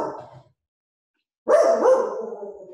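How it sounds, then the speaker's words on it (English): A dog barks indoors in two bursts: a short run of barks, a second of silence, then a louder, longer barking and whining outburst close by. "that's my dog barking."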